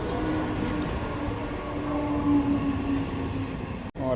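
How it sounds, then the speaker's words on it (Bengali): A commuter train pulls into a station on the Sealdah line near Baruipur, a steady rumbling roar with a sustained tonal squeal of brakes or wheels, loud and close throughout with a brief dropout near the end. "আমার ট্রেন চলে এসছে"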